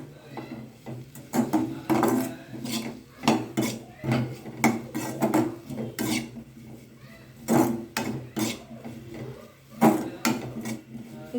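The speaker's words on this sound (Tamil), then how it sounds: "இது கூடயே தேங்காயையும் சேர்த்து வதக்குங்க." Okra and coconut sautéed together in a pan for a tamarind gravy, giving repeated clinks and scrapes of a spatula against metal in an irregular rhythm, fairly close and moderately loud, with no sizzle standing out.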